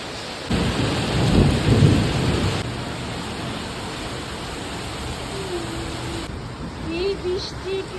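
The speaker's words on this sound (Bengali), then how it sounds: "আজ সারাটা দিনই বৃষ্টি পড়ছিল।" Heavy rain pouring down during a thunderstorm, a dense, loud, continuous hiss with a deep rumble of thunder rolling through early on and a faint tonal chirp near the end, with no talking.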